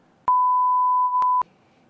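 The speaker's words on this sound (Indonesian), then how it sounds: "Ya nanti editor nanti tinggal di bip aja kan mungkin agak sensitif." A steady, loud mid-pitched censor beep about a second long covers speech, with clicks at its start and end and a brief dip near the close, surrounded by near silence.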